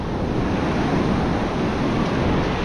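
Ocean waves roll onto a beach of fine, firm sand, a loud, constant wash of surf mixed with gusty wind buffeting the microphone and no voices.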